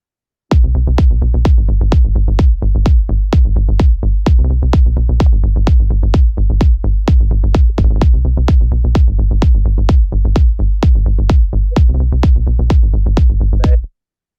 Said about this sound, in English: But the kick and bass alone sound like this.